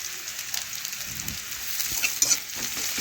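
Onion and garlic frying in a pan while making a bottle gourd greens mash, a steady soft sizzle with a few light stirring scrapes, close and fairly quiet, with no voices.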